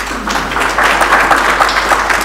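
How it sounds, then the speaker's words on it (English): Audience applause at a university research chair launch event, a loud steady burst of many hands clapping with no talking. "they deserve a round of applause"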